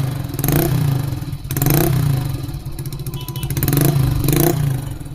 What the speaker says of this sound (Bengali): স্টার্ট করার পর আমাদের এখানে সাইলেন্সারের যেমন আওয়াজ আসে ফাটফাট করে